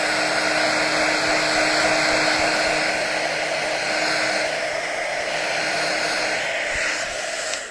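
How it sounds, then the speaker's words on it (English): A heat gun blows hot air steadily to smooth and set edges on a craft piece, a loud, close, continuous whooshing hum that runs unbroken without talk. "I'll hit it with some heat for a second."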